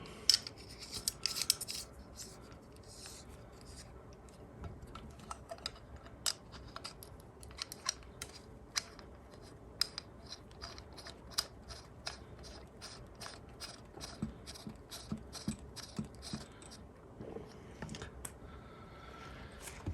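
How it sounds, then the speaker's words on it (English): A 1/4 inch wrench turns a poppet tool to screw a poppet into an early U.S. Divers Aqua Lung Calypso regulator. It gives faint, close, irregular metallic clicks and ticks over a quiet background. "Put the poppet tool in and my 1/4 inch wrench. And screw it in just a little."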